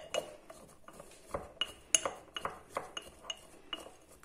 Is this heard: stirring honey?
yes